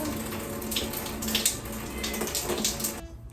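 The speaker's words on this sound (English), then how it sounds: "I had to put my head under the bathtub faucet." Water runs from a bathtub faucet in a steady, splashing stream at close range, then cuts off near the end.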